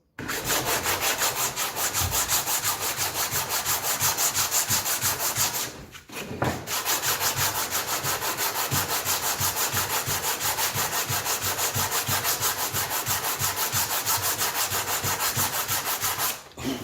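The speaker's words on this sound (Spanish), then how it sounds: "vamos a tomar un taco de madera lija, desarmar el gramil y pulir cada una de las piezas" Rhythmic hand sanding of a wooden marking gauge's parts with a sandpaper block, quick back-and-forth scrubbing strokes repeated steadily and loudly for a long stretch, with a short pause partway through.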